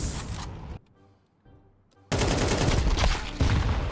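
Counter-Strike style first-person shooter gunfire, a burst of rapid shots, then a near-silent pause with a few faint clicks, then a second loud, dense volley of close gunfire continuing to the end.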